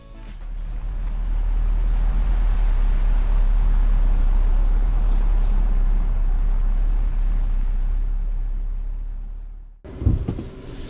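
Steady wind and road roar inside a 2026 Toyota bZ AWD electric car cruising on the road, a continuous broadband rush with a low hum that holds level for about ten seconds before cutting off abruptly.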